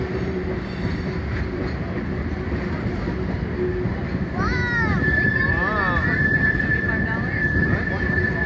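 A train rumbles through the Royal Gorge in Colorado with a steady low roar, joined midway by high squealing wheel screeches and a sustained metallic whine.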